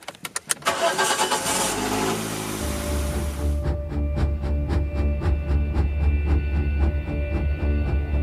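A car engine cranks with a few sharp clicks, catches and settles into a loud, steady low rumble close by, holding a droning idle as the car pulls away.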